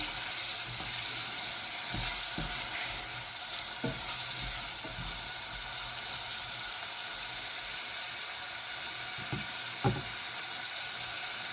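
A spoon stirring tomatoes and other ingredients in a sizzling frying pan for huevos rancheros, steady frying hiss with scattered scraping taps, close and continuous.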